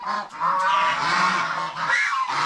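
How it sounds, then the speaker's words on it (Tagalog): Several geese honk loudly and continuously nearby, their harsh overlapping calls filling a few seconds. "ang naghari-harian dito yung mga gansa"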